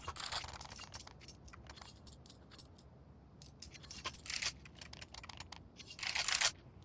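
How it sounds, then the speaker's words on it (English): Typing on a computer keyboard, quick irregular key clicks in scattered bursts, soft and close, with quiet gaps between flurries and no talk. "I hear typing."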